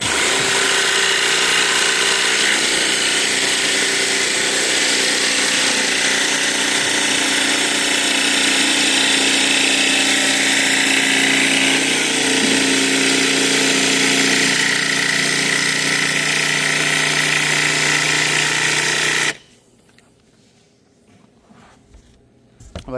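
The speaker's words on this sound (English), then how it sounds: "I will simply use my jigsaw here, cut that toe kick out" A jigsaw with a built-in blower cuts a toe kick out of a wooden cabinet panel, a loud, steady buzzing drone running for nearly twenty seconds before stopping abruptly into quiet.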